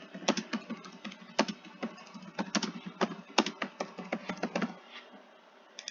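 Fingers tap quickly on a computer keyboard, close up, in irregular bursts of crisp clicks with short pauses, against a quiet background and no voices.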